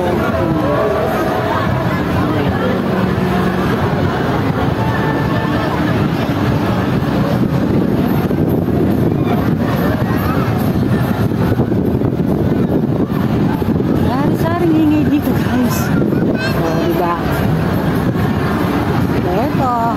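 Strong wind buffets the microphone continuously, with a crowd's babble and distant voices mixed underneath, like an open waterfront setting in Hong Kong.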